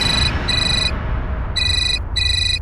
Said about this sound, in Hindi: तुम्हारा फोन बज रहा है।